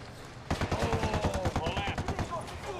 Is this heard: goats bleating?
no